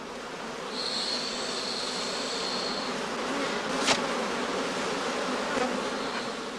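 Honey bees buzzing around straw skeps standing in a heather field in summer, a steady dense drone filling the air with an occasional single bee passing close.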